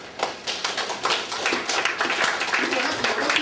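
A congregation claps at a gospel ministry in a halfway home in Singapore. Dense, steady group clapping builds at a brisk rhythm, fairly close and continuous.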